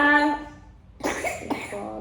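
A young boy sick with fever and a cold coughs twice in quick succession at close range, after a brief voiced whimper.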